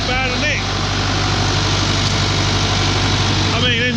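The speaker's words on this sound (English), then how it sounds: "Just sits there ticking over, runs it lovely." Old two-wheel-drive tractor engine idling steadily, a loud, constant low rumble up close with faint voice-like tones at the start and end.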